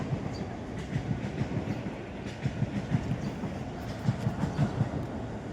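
A train runs along a rail line in Japan, heard fairly faint and at a distance, with a steady rumble and a regular clickety-clack of wheels over the rail joints.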